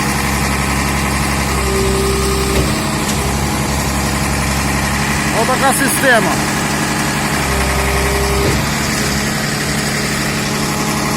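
A heavy concrete pump truck's diesel engine idles steadily with a low rumble, while someone speaks briefly over it.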